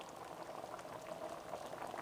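Beef barbacoa simmers in a covered pot, giving a steady, close bubbling and gurgling boil that runs evenly throughout with no voices.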